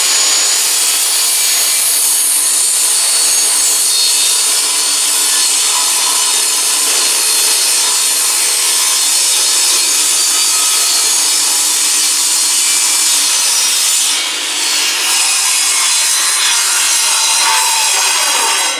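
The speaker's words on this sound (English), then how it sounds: "So we're going to turn the saw on." A power saw runs continuously and loudly, cutting wood pieces to an identical length with a clamp holding the workpiece, a steady harsh whine and rasp filling the whole stretch with a brief dip near the end.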